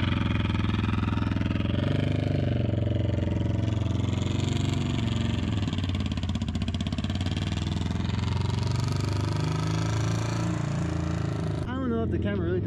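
A loud motorcycle exhaust rumbles steadily up close, a continuous idling drone with shifting pitch, while people talk over it.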